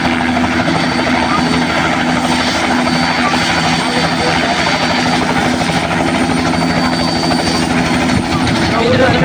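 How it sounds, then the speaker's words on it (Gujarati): A helicopter flies over a wedding procession, its rotor and engine roar loud and steady throughout, with crowd voices mixed in beneath. "હવે હેલિકોપ્ટર જાય છે"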